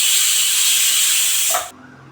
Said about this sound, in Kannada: ಸರ್ ಇವಾಗ ಒಂದು ವಿಸಿಲ್ ಬಂದಿದೆ ಒಂದು ಮೂರು ವಿಸಿಲ್ ಬರಬೇಕು